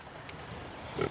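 Pigs on a farm, with one short grunt rising near the end over quiet outdoor background.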